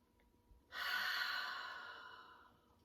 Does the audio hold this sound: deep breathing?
yes